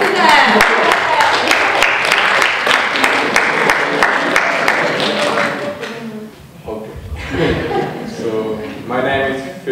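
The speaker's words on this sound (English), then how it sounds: "And applause to them." An audience at an Erasmus welcome meeting applauds the Czech students, with brisk clapping for about five seconds that then stops and gives way to talking and a little laughter.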